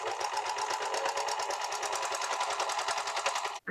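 Serger sewing machine stitching and trimming stretchy tights fabric into a top, a steady rapid mechanical chatter running continuously at close range, then cutting off abruptly at the end.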